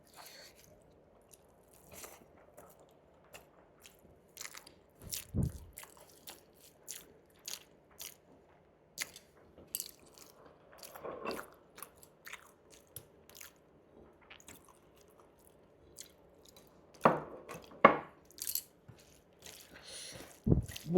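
Rice with dal, potato fritters and egg curry is being eaten up close, with faint scattered crunches and soft chewing and squishing sounds, a few sharper bites standing out against a quiet background.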